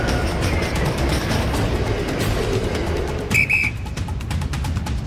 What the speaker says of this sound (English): The team use whistles to alert each other to approaching trains.